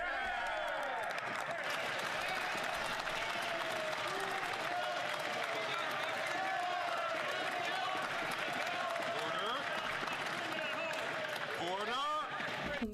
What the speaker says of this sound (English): Everybody stop clapping!